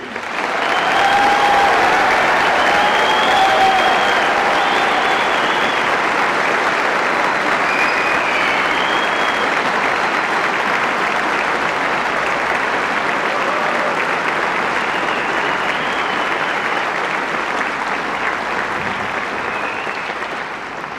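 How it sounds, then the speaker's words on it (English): A large audience applauds the Marine officers of Charlie Company at a military school ceremony, loud sustained clapping from many hands filling the space for about twenty seconds without pause or speech. "please join me in congratulating with a round of applause the Marine officers of Charlie Company"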